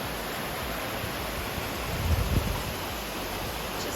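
A waterfall beside a hiking trail roars as a steady, even rush of falling water, constant and fairly faint, with no voices.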